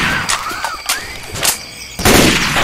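Gunfire in the zombie shooter game Left 4 Dead 2: several sharp bursts of shots in quick succession, loud and close, ending in a heavier burst, with no talk over them.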